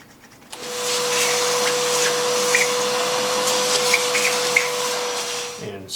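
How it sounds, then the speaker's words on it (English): A vacuum cleaner hose sucks debris out of a Jeep 4.0L inline-six engine under repair, a loud steady whine that starts abruptly and runs nearly unbroken, close to the microphone. "we want to vacuum as much out as we can"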